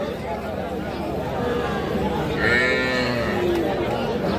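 Cattle moo loudly and close by at a busy rural livestock market where young heifers and bull calves are sold, the long lowing calls rising over constant crowd chatter and people talking nearby.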